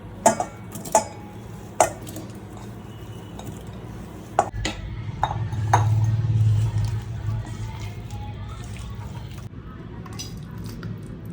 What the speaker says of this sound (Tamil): இப்போ கட் பண்ணி வச்சுருக்கிற இந்த இட்லியை மொத்தமாக இதில் போட்டு மெதுவாக கிளறி வச்சுக்கலாம்